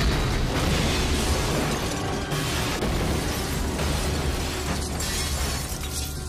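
A loud, sustained roaring blast with crackling debris, dense broadband rumble filling the whole stretch without letup, no voices.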